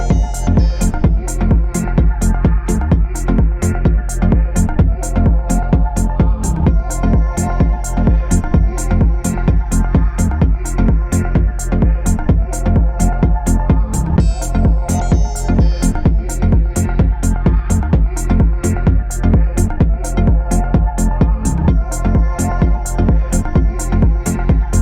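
Techno synth track built in FL Studio, a steady loud four-on-the-floor beat layered with a sampled choir pad and a siren-like effect sweeping around, running continuously throughout with no voices.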